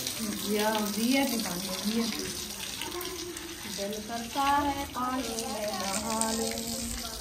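Cold water runs steadily from a tap as feet are washed in a village setting, a continuous close splashing stream that keeps going throughout, with faint voices mixed in underneath.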